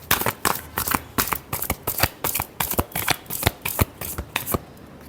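Tarot cards being shuffled by hand, a rapid series of about a dozen crisp riffling slaps in quick rhythm, close and clear with no voices.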